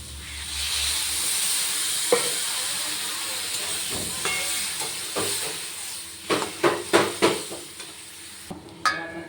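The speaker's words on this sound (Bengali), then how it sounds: "এবার দিয়ে দেবো জল একটু বেশি" A generous splash of water goes into a hot pan of potato, aubergine, bitter gourd, carrot and bean, bringing up a loud steady hiss of steam and sizzle, followed by several close scraping stirs near the end.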